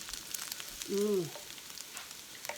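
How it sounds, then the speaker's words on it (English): Pork fries for tacos on a hot surface, a steady, fairly quiet sizzle and crackle heard close up, with a short voiced sound briefly rising over it partway through. "look at this and listen to this"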